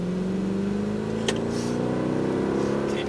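A Mercedes-Benz AMG car accelerates on a track, its engine note rising steadily as a loud, continuous drone with a brief sharp click partway through and no talk.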